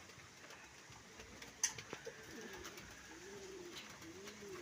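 Racing pigeons at a loading station coo softly in low rolling phrases, with a few sharp clicks and flutters early on. A quiet outdoor hum sits in the background and no one speaks.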